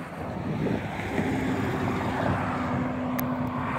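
Steady wind noise rushes over the microphone beside railroad tracks at Val Vista Drive, broadband and continuous, with a faint low hum underneath and no voices.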